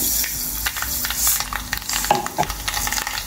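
Mustard seeds sizzle in hot oil in a pan for a tadka, a continuous crackling hiss with small pops and the scrape of stirring, no voices over it.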